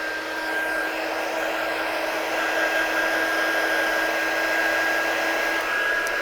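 A heat gun warming up for heat embossing on a handmade card, giving a steady, loud blowing whir with a faint whine that holds unchanged throughout, no talking.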